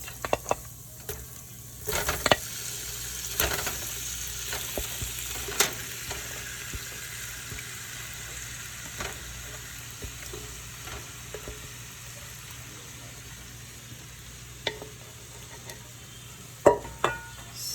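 Shrimp frying in a hot pan over medium heat for tacos give a constant close sizzle, broken by occasional sharp clinks and stirring knocks.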